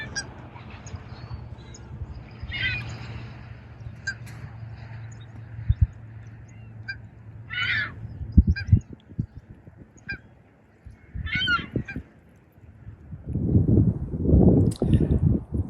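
Geese swimming on farm lakes in early April honk now and then at a distance, scattered calls over a low outdoor rumble, with splashy, squishy noises building near the end.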